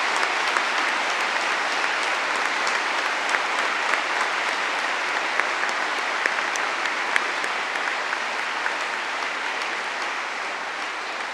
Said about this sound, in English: So a round of applause for my colleagues,